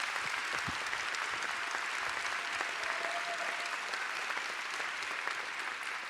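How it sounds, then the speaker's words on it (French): Sustained applause from a live masterclass audience for actress Sarah Michelle Gellar, steady and dense clapping filling the room throughout with no voices over it. "on peut l'applaudir."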